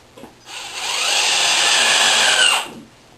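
An old Harbor Freight drill drives a screw into wood on an outfeed table build, with a close, loud motor whine that rises and holds for about two seconds before stopping, alone without talk.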